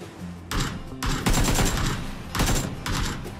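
Bursts of rifle fire in PUBG, several sharp volleys cracking out close together over a few seconds, loud and dominant with no talk over them.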